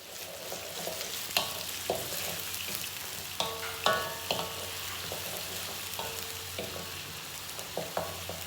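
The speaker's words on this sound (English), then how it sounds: "So once it starts sizzling, I'll add in the onion." Steady sizzle of onion frying in hot ghee in a pan, with intermittent clinks and scrapes of a utensil stirring, close and moderately quiet, no talking.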